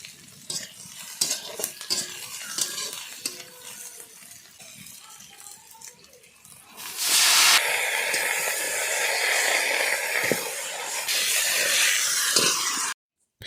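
Onions and shrimp with dried chilli sizzle in a pan, quiet stirring and light frying at first, then a loud steady hiss of frying that holds for several seconds before stopping abruptly.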